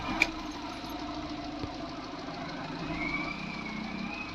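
A pickup truck with a check engine fault starts with a brief click, then settles into a steady idle with a low knocking engine drone and a faint rising whine toward the end.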